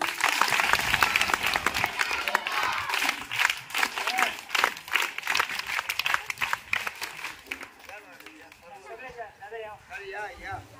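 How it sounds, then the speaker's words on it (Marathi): An audience at a school spoken-English programme claps loudly in a dense round of applause that gradually thins out, with voices talking over it toward the end. "पुन्हा एकदा टाळ्या वाजवा"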